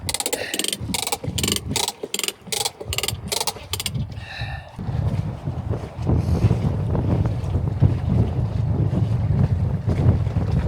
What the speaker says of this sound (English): It's quite breezy for doing this.